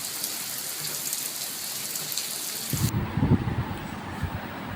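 Heavy rain pours steadily on a rainy morning, a dense hiss that shifts midway into a closer, lower drumming of drops on a surface, with no voices.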